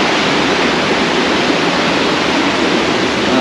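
A jungle river rushes in a dense, loud, unbroken wash of water noise close by, steady throughout with no voices.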